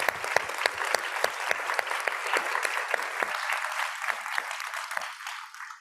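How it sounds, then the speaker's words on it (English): A meeting audience gives a sustained round of applause for three doctors, dense clapping close and steady, then thinning and tapering off toward the end. "Let's give them all another round of applause"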